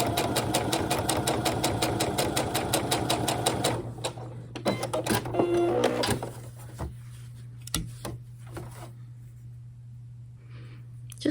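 A sewing machine stitches a quilt block, running fast and steady for several seconds before stopping, followed by scattered handling clicks and a low hum.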